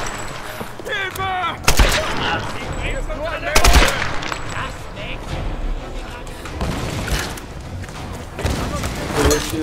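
Rapid rifle gunfire rattles in the video game Tomb Raider, with sharp bursts and loud single shots over a tense in-game soundscape, while players talk excitedly throughout.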